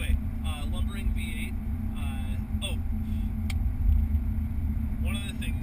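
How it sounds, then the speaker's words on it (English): Interior of a moving car with a lumbering V8 engine, a steady low rumble running throughout under someone talking close by. "Anyway, lumbering V8."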